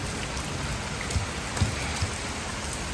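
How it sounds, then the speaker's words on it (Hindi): Steady summer rain pours down outdoors near a rooftop, a dense even hiss with a few louder drips and splashes landing close by, with no voices. "देखो बाबा पानी कैसे गिर रहा है।"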